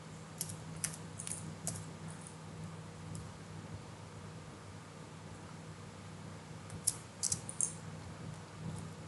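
Scattered light clicks of typing on a computer keyboard while Python code is entered, a few quick keystrokes at the start and a denser cluster near the end, soft and close over a faint steady hum.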